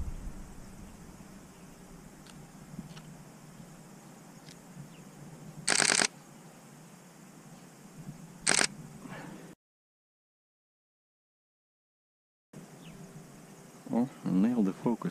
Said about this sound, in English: I want to hear this 10 frames a second thing again.